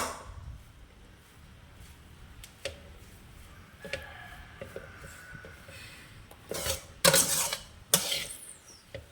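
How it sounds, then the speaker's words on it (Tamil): Egg fried rice with carrot and beans being stirred in a pan, giving soft intermittent scrapes and light metallic clinks, with a few louder clattering bursts toward the end and no talk. "சாப்பாடும் முட்டையும் கேரட் பீன்ஸ் எல்லாம் கலக்கணும் ஃப்ரெண்ட்ஸ்."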